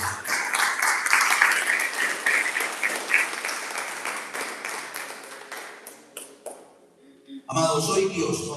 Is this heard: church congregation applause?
yes